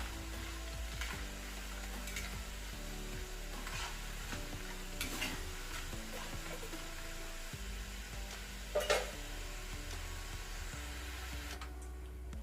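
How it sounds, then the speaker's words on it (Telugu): Rice flour chips deep-frying in oil over a medium flame, a steady close sizzle with faint stirring clicks and a brief louder scrape near the end. "ఇప్పుడు మీడియం ఫ్లేమ్ మీద వేయించుకోవాలి. మన క్రిస్పీగా అయ్యే వరకు వీటిని వేయించుకోవాలి."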